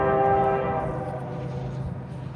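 Norfolk Southern 278, an eastbound freight train, sounds its horn loudly and steadily in the opening second, the blast fading as the heavy low rumble of the passing cars and engine continues underneath.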